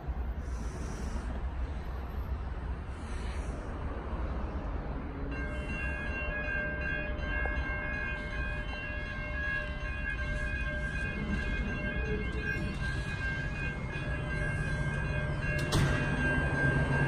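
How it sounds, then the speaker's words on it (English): A Pacific National goods train led by locomotive G522 rumbles steadily nearby as it approaches South Geelong station, with squealing, tonal wheel and brake sounds rising partway through; continuous low roar, no voices. "a goods train approaching South Geelong"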